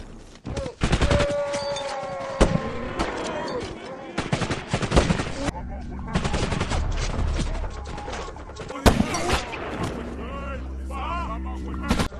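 A gunfire exchange in the war action film Sniper Reloaded comes as dense bursts of automatic rifle fire and heavy blasts, loud and chaotic, overlapping with explosions, impacts and shouting over roughly twelve seconds.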